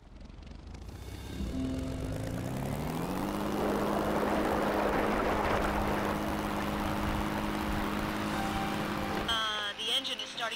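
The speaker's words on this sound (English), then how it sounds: "The engine is starting to make some weird sounds. I hear a rattle and small pops." A video game aircraft engine spins up from a start into a loud, steady droning roar with a rising whine, carrying a rough rattling texture before cutting out sharply near the end.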